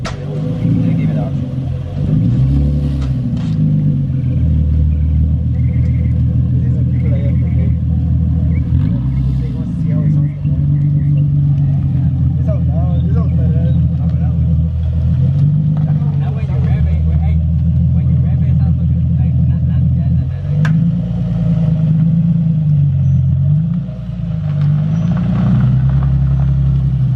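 A Nissan 370Z with a straight pipe exhaust rumbles loudly and continuously, revving up and easing off as it drives, with a deep, throaty exhaust tone close by.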